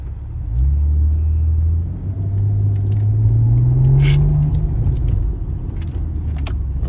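Maserati SQ4 heard from the cabin while driving, a deep steady engine rumble that rises in pitch as it accelerates, then settles, with road noise and a few faint rattles.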